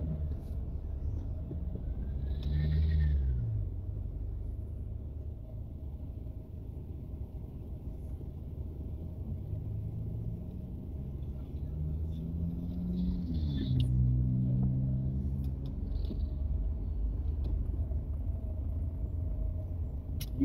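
A car driving on a road in Trinidad, a steady low engine and road rumble throughout, swelling slightly at times, with faint voices briefly audible in the cabin.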